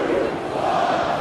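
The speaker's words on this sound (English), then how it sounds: "The crowd counting down." A wrestling crowd at an AEW Double or Nothing event chants a countdown in unison, a loud, steady roar of many voices filling the arena throughout.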